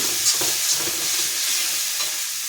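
Spice paste for koi fish fries in hot oil, a continuous close hissing sizzle with soft scraping strokes as it is stirred in the pan.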